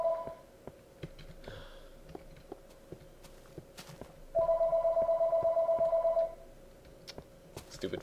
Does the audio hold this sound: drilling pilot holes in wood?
no